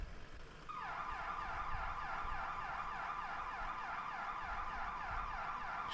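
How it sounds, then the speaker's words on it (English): A fire vehicle's Q siren in the EmergeNYC emergency-response game wails in a steady, rising and falling pattern, starting abruptly after a short moment and holding loud and close to the end without speech. "only certain fire vehicles actually have that Q siren."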